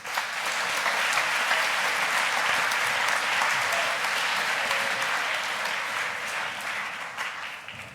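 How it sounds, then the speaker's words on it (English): A large audience at an MBA assembly applauds loudly and continuously, a dense wash of clapping that barely eases toward the end. "Let's give a round of applause for Marcus Whitney."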